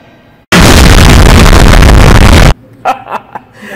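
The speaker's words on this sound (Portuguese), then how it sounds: "Só queria dar um susto com a explosão só." A sudden, very loud, saturated explosion sound effect bursts in and roars for about two seconds, then cuts off abruptly, followed by a few faint clatters.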